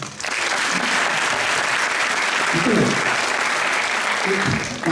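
Loud, sustained applause fills an entrepreneurship development workshop audience, with dense clapping running evenly and close before it tails off at the end.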